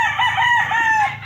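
Gamefowl rooster at a game farm crowing once, loud and close, a single drawn-out call filling the whole moment.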